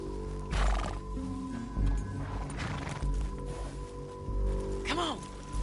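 Horse neighing in the Red Dead Redemption 2 video game, a rising whinny near the end over ambient game noise and hoofbeats, with characters talking across the clip.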